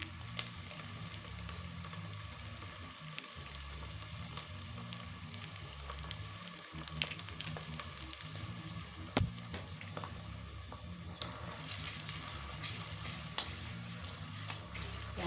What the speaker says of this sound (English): After putting onion, now put your tomato paste.